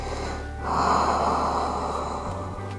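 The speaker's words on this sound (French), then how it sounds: "Et expire avec la bouche." A slow exhale through the mouth during a yoga flow, a soft breathy rush that rises and fades over a couple of seconds, close and unaccompanied by talk.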